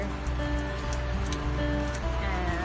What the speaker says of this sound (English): Having a beauty of a sun shower.